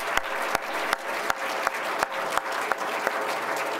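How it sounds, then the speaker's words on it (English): Sustained applause from an audience at a Berkeley lecture, a steady wash of clapping with regular sharper nearby claps punctuating it at an even rhythm. "give him another round of applause"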